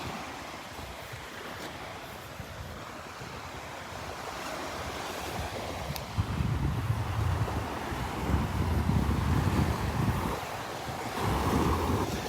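Wind buffets the microphone while surf washes onto the beach at Delnor-Wiggins, a soft continuous rush with waves swelling louder in the second half, no one speaking.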